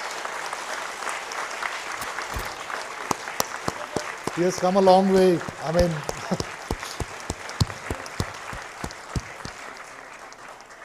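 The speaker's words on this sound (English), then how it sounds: "I think it deserves a big round of applause." Steady applause from an audience fills the clip, with someone speaking briefly over the clapping partway through.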